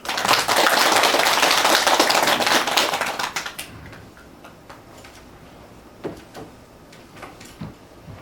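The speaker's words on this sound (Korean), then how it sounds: "우리 박수 한번 쳐주죠." A group claps at the start of a tea and meditation class at a Seoul meditation centre. Dense, loud clapping fills the first three seconds, then fades into scattered faint taps and quiet room sounds.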